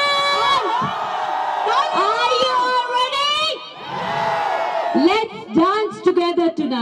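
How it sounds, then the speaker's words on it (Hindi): Crowd cheering, whooping and shouting at a live stage show in Ranchi, a loud continuous roar of many voices with scattered screams and whistles rising and falling throughout. "जोरदार तालियों से स्वागत किया जाओ"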